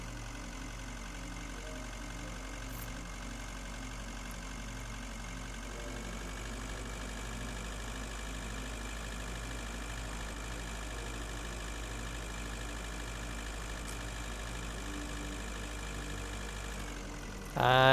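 A steady, even hum of a spaceship engine in flight in Breathedge, droning continuously and unchanging at moderate level until a sudden swell at the very end.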